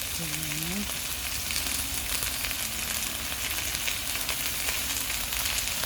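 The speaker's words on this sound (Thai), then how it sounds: "ผัดทั้งหมดให้เข้ากัน" Bottle gourd stir-fried in a pan with oyster sauce and seasoning, a steady moderate sizzle with light stirring scrapes throughout, and a brief tonal sound near the start.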